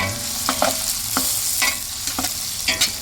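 Ginger stir-fried in a pan, a continuous bright sizzle with intermittent scraping stir strokes, close and steady.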